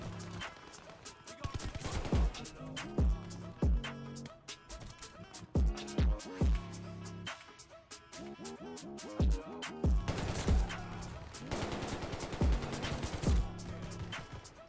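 Vargo-S rifle gunfire in Call of Duty Vanguard, rapid automatic bursts repeating in short clusters, loud and close, with game sound effects between strings of shots.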